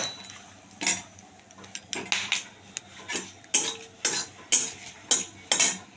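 Whole garam masala and bay leaves fry in a little oil while a utensil stirs, giving rhythmic scraping clinks against the pan in short bursts about every half second, with no talk.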